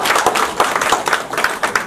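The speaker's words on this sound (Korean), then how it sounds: "예, 박수 한번 주시죠." Brisk audience applause at a policy forum on early construction of the Sinansan rail line, with dense, rhythmic clapping throughout a short burst.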